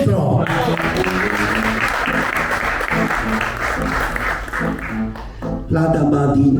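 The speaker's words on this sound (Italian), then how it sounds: "Un applauso al maestro!" An audience at a film screening event applauds for the maestro, a dense wash of clapping that swells and holds for several seconds, with a few voices mixed in near the end.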